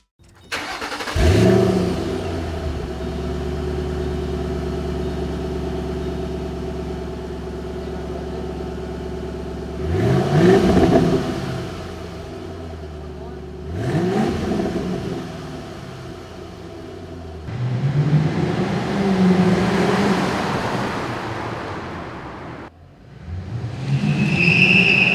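A 2008 Ford Mustang GT V8 revving and accelerating hard through several gears, loud close engine roar rising in repeated pulls with brief drops between shifts, no talk.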